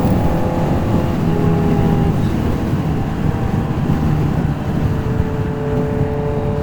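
A Honda CBR650R motorcycle cruising on a freeway at about 62, heard as a loud, steady roar of engine drone mixed with heavy wind rush, constant and close throughout, with no talk.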